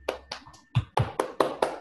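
A classroom of students claps for a classmate after a spelling exercise, a short burst of roughly eight distinct, fairly close hand claps in a loose rhythm, scattered at first then tightening into a quicker sequence.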